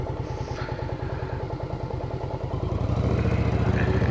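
A Virago motorcycle idles close by with a steady, even low-pitched thump, and the engine note swells slightly near the end as it is clicked into first gear with a suicide shifter.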